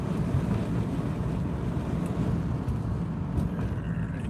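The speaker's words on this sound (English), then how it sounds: "we're just going to enjoy the sound of nature and a rumbling engine with not a good" A car's engine rumbles steadily through an exhaust that is not good enough, heard from inside while driving on a November day. The low drone is continuous and fairly loud, with light wind noise over it.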